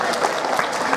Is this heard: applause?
yes